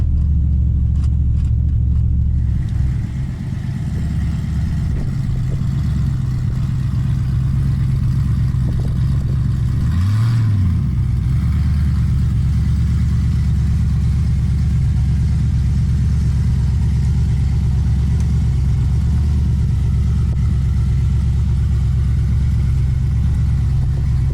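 An S10 pickup truck with an LS 5.3 engine idles with a steady deep rumble, briefly revving up and settling back down partway through, close and loud throughout.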